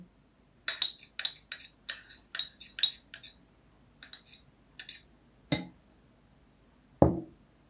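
A spoon stirs coconut flakes, starch and melted butter in a bowl, giving a close series of sharp, irregular clinks against the bowl with brief pauses between strokes and no talking.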